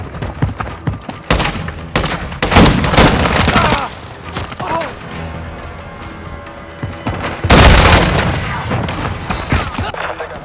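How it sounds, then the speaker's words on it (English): A cruise missile strike in Call of Duty: Modern Warfare II lands as loud booming blasts and rolling gunfire bursts, with heavy thuds near the start and a big explosion later, echoing between quieter stretches. "Friendly cruise missile deployed."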